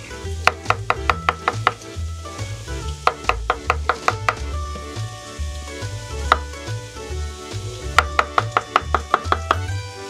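A knife chops through raw mushrooms on a board in quick, sharp bursts of rapid strokes with pauses between, close and clear with no voices.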